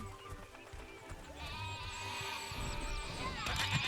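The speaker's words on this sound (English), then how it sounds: "now that we're topside and there's these adorable sheep" Sheep and a little lamb bleat in a video game above ground: a few wavering bleats over busy game ambience, with a sharp sound near the end.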